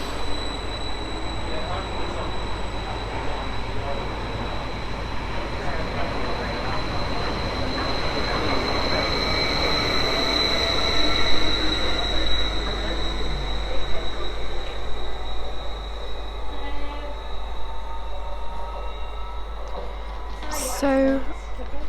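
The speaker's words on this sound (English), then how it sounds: "We have this Stansted Express Greater Anglia 755 going to Norwich." A Greater Anglia Class 755 train bound for Norwich pulls away from the platform at Manningtree station with a loud, steady rumble, a high electrical whine, and wheel noise, running throughout and ending in a brief squeal.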